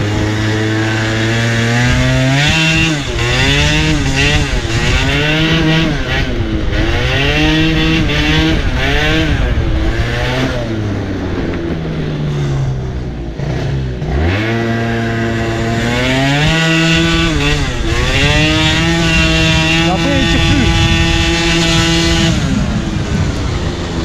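A Piaggio Zip scooter's small engine fitted with a Yasuni R exhaust revs repeatedly up and down, loud and close, in a continuous series of rising and falling buzzy blips.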